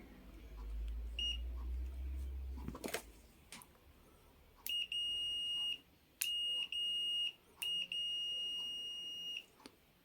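A sharp thump followed by a series of electronic continuity-test beeps from a Fluke 107 digital multimeter: one long tone, then two more, each a steady high-pitched beep, with short gaps between them.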